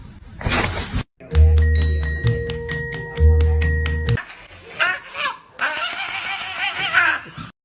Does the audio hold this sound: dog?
yes